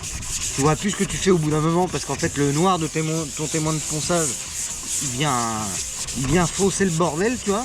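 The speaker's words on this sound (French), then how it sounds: "T'as tout le camion à te poncer comme ça." Paint on a Scania V8 truck is wet sanded by hand, a soft rubbing scrape running under someone talking throughout.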